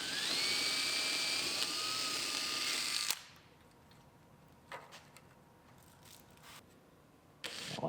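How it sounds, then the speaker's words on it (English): A drill whines at high speed, drilling out rivets on a Mustang GT body panel, steady and loud for about three seconds before it stops abruptly, followed by a few faint clicks and a brief burst of noise near the end. "drill all our rivets out of this piece"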